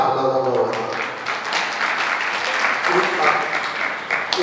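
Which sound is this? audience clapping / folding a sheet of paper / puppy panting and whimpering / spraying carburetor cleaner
audience clapping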